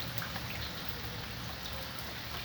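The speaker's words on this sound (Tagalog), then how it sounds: "Bihira lang mag-ulan dito sa Saudi." Rain from a rainstorm in Jeddah, Saudi Arabia, pours in a dense, even hiss with pattering drops on surfaces, steady and close throughout the short stretch, no voices.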